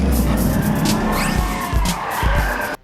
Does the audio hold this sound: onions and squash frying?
no